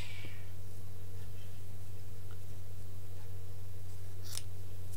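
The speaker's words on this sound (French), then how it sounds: "Je vais couper comme ceci" Scissors snip red paper for a monochrome Mother's Day card, with a couple of brief, crisp cuts standing out over a steady low electrical hum.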